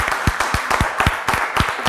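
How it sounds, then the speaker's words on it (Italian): Studio audience on an Italian TV quiz show applauding a caller named Francesco: steady, dense clapping from a crowd, close and full, with regular rhythmic swells throughout. "facciamo un applauso a Francesco"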